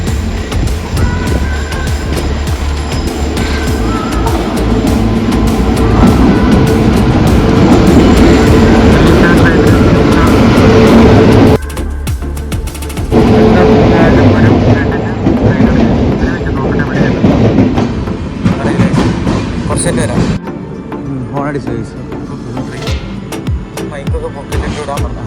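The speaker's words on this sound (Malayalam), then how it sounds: "ട്രെയിൻ പോയി." A train rolls through a railway station, a loud, continuous rumble with rail clatter lasting throughout, briefly dipping midway and easing toward the end, with a voice speaking over it at times.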